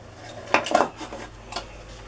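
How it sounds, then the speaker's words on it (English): A knife or spoon scraping butter from a butter dish, a few short scraping clinks of metal against the dish, close and fairly quiet, spread over about two seconds. "I'm going to get my other hand with the butter dish. And scrape out some butter."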